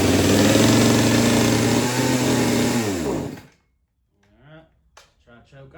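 A chainsaw engine on half choke runs loud and close, then winds down and dies out, followed by a short silence and a few brief sputters and faint revs.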